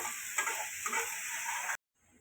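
Matar paneer frying in a pan is stirred with soft scraping strokes over a steady sizzle, then the sound cuts off abruptly into near silence.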